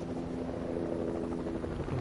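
Helicopter in the video game Fortnite, a steady, fairly faint rotor drone that holds evenly for two seconds with no voices over it.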